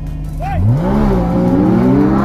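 Audi R8 super sports car with a V10 engine revving in a racing video game, a loud rising engine whine sweeping upward continuously, with a brief squeal early on.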